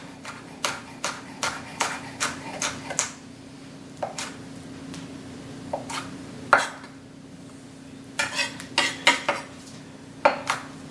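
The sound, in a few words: knife fine slicing a serrano hot pepper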